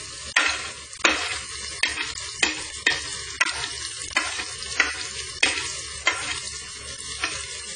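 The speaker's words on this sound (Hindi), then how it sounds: "अब हम प्याज डाल देंगे," Finely chopped onion frying in oil with reddened cumin seeds for chana urad dal, a close sizzle punctuated by about a dozen regular scraping stirs of the spoon against the pan.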